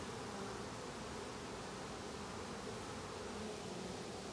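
Honey bees from a new swarm crawl over about six hive frames, giving a steady, dense buzzing drone that holds even and close throughout with no talk.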